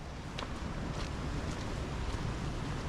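Steady broadband rush of the Karišnica river flowing near an old stone bridge in Dalmatia, with gusts of wind buffeting the microphone and no voices.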